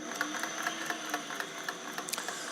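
A restored all-metal Singer 404 slant-shank sewing machine with a rotary hook test stitches slowly, giving a quick, even mechanical ticking of needle and gears, close and steady, with no talking.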